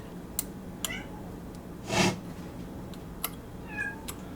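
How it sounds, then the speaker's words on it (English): A cat lets out one clear meow near the middle, with a few softer chirpy cat sounds before and after against quiet room noise. "That is my cat Jojo making noise."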